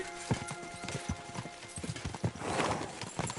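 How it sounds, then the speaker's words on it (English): Horses gallop in the medieval game Kingdom Come: Deliverance II, with rapid clip-clopping hooves in a steady, close rhythm and a brief whinny near the end. "We should spur the horses on."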